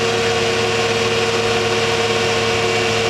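A supercharged mini-truck engine runs steadily at three-quarter throttle, with a loud, constant, even drone and a whining tone close up under the hood.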